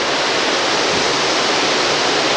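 Heavy rain pours down during Hurricane Isabel in 2003 along a flooded residential street, a loud, dense, unbroken hiss that stays steady throughout with no voices.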